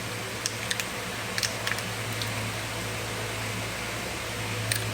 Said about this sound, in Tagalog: Sorry, malakas ba yung noise? Naka-electric fan kasi ako.